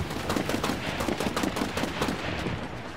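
Rapid bursts of gunfire from the shooter game Titanfall crackle in quick succession, dense and loud, overlapping in a busy firefight with no speech on top.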